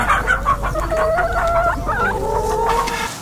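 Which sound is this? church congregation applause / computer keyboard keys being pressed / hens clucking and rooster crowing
hens clucking and rooster crowing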